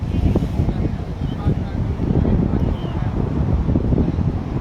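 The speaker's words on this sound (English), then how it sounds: "which just highlights again just how windy it is here." Strong wind buffets the microphone at an outdoor ultimate frisbee pitch, a loud, continuous low roar with gusty surges throughout; a voice is faintly mixed in.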